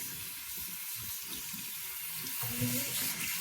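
Warm water runs steadily from a tap as a toy baby doll's hair is washed at a sink, a continuous close splashing rush with a few slightly louder splashes near the end.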